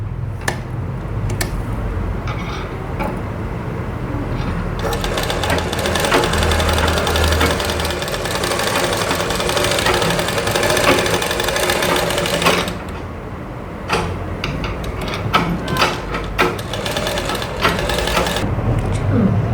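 A sewing machine stitching a neck design on a garment, running in long rapid mechanical bursts up close, with short stops and restarts and a voice talking briefly in places.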